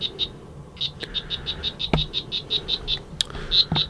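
Frog croaking, a near, rapid series of short chirping croaks repeated in quick rhythm with a brief pause, plus a few sharp clicks, alone without talk.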